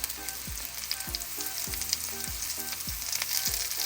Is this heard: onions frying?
yes